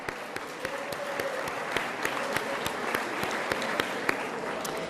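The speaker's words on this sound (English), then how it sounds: "Let's give them a round of applause." A book fair panel audience applauds in a moderately quiet, continuous patter of many hands, with a few sharper individual claps standing out near the front.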